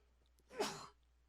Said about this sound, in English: I've had to sneeze for the longest time.